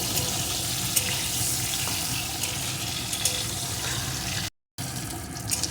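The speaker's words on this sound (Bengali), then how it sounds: "ফোড়নটা ভেজে নিয়ে এর ভিতরে দিয়ে দেবো কয়েক টুকরো পটল পটলটাকে একটু ভেজে নেব" Pieces of pointed gourd fry in hot oil with tempering spices, giving a steady loud hissing sizzle that carries on throughout apart from one brief silent gap.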